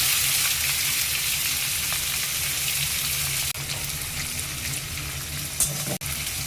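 Chopped onions frying in a pot with cardamom and cinnamon, a loud, dense, continuous hissing sizzle, close by and steady, with a couple of brief dips where the sound briefly drops.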